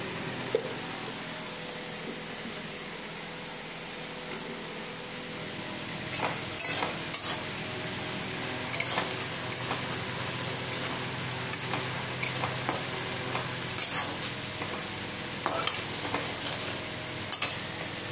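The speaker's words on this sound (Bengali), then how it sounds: "পেঁয়াজটা ভাজা হলে" Onions sizzle in a pan with turmeric, a steady soft frying hiss that runs throughout, with intermittent scraping and stirring taps from a utensil in the second half.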